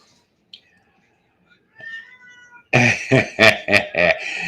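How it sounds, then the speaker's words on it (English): A tabby cat meows several times in close succession, loud and near, after a quieter stretch with faint background noise. "this is my grand cat"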